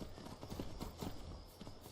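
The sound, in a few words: horses' hooves clip-clopping in Skyrim video game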